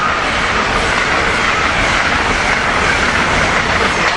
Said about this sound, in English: A new ACS 64 number 603. And here he comes.